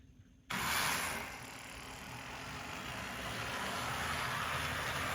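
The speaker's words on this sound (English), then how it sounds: "These motors never really have smooth takeoffs. Once you get them running, they're actually not bad." A model train motor, freshly cleaned and oiled after repair, kicks on abruptly with a loud whir and then settles into a steady, grinding mechanical hum as it keeps running on the track.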